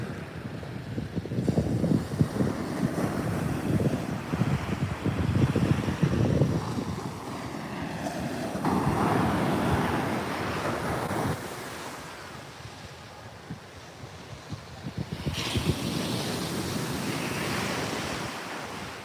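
Ocean waves at a beach at night, surf rushing and breaking in rolling surges that rise and fall, mixed with wind buffeting the microphone, with no talking.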